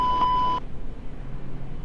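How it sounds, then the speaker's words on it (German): Cockpit alarm in the Eurofly flight simulator game with a 747: a short steady electronic beep tone lasting about half a second, then cutting off to faint background hum. "Jetzt haue ich den mal kurz noch mal ein Chaos an Alarmsignalen um die Ohren."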